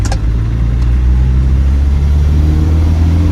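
A 1998 Land Rover Defender 110 with the 300Tdi diesel engine pulls hard while heading downhill, a loud, steady low drone with a rising engine note filling the whole stretch, recorded from inside the cabin with no talking.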